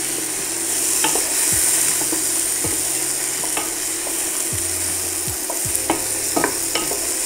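A small homegrown onion frying in a pan, a constant loud sizzle with a spatula scraping and tapping against the pan every second or so, close and without voices.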